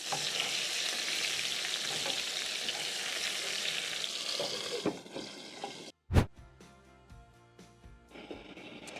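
Chicken sears in a pot for a one-pot chicken and rice dish, a steady close sizzle that breaks off briefly before a sharp burst and quieter crackling resumes.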